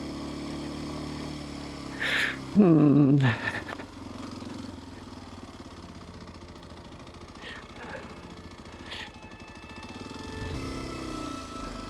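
A Kawasaki KLX230 motorcycle climbs an icy mountain trail in third gear, its steady mid-pitched engine drone running beneath a rider talking, with a brief rising rev near the start.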